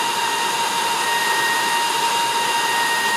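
A Dreame T30 cordless vacuum cleaner runs in Auto mode with a constant, loud high-pitched whine and airy hiss, unbroken and alone.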